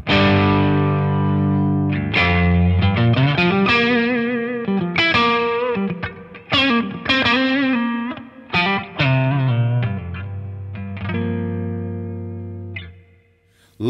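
Electric guitar chords and single notes ring out through an RV500 reverb pedal with a wash of lush reverb, sustaining and decaying into a spacious tail between phrases.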